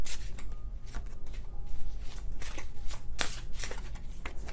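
Tarot cards are shuffled by hand in a steady run of soft, riffling card flutters, close and quiet, with no talking.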